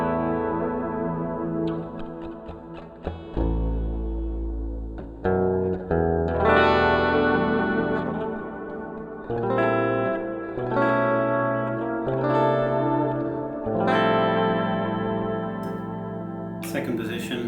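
Sire X6 seven-string electric guitar on its bridge pickup with a clean tone, strummed chords and picked notes ringing clearly through effects with some echo and reverb, played alone with no talking.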